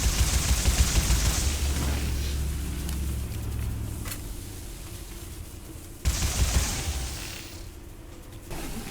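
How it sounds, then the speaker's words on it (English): Gunfire aimed at cages in the Sker Ritual video game: dense rapid bursts of shots over a loud rumbling game din, a brief pause, then another sharp volley, all close and continuous. "So just shoot the cages until the health meter goes all the way down."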